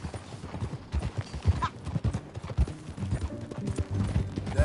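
Horse hooves clip-clop in a steady walking rhythm while riding in Red Dead Redemption, close and fairly loud, with game music or ambience underneath.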